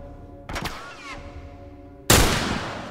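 Gunfire in The Last of Us on PS4: a sharp shot with a short burst near the start, then a loud, close single shot with a ringing tail near the end, heard over background game ambience.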